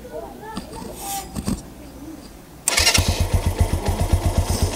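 A used motorcycle engine, a Motor Maroc SH C90 Benelli, fires up after some faint handling noises and settles into a loud, rapid, pulsing idle close by.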